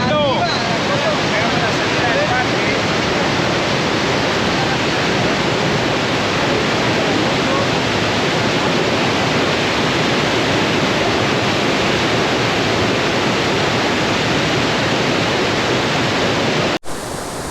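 Iguazu Falls in Argentina pours down in a huge torrent, a loud, dense, unbroken roar of rushing water that fills the whole scene and cuts off abruptly at the end.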